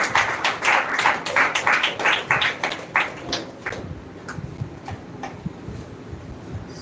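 An audience at a speech competition grand finale claps for a speaker, a brisk burst of scattered hand claps that thins out and dies away after a few seconds.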